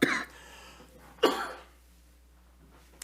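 Two separate coughs from a preacher during a sermon, one at the start and another about a second later, each a short harsh burst close to the microphone with quiet in between.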